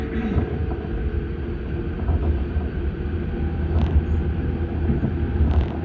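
An Auckland Transport AM class electric train rolling on rails between Waitematā and Ōtāhuhu, New Zealand: a steady low interior rumble and hum with occasional clicks and clatter from the wheels.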